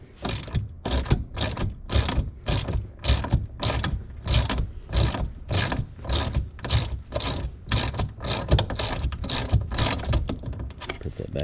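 A hand ratchet with a 13mm socket loosens a seat nut on a Jeep JLU, giving a steady run of rapid, close metallic clicks across many strokes.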